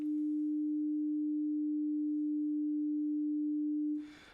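A steady sine wave tone with a slow 1 Hz vibrato holds at a constant pitch for about four seconds, its wavering barely noticeable, then cuts off into faint noise.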